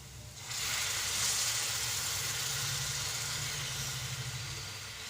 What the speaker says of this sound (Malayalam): നമുക്ക് ഈ തിളച്ച വെള്ളം അതിലേക്ക്